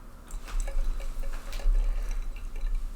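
Pure pomegranate juice is poured into a container, a close, continuous liquid trickle with small splashes and drips over roughly three seconds.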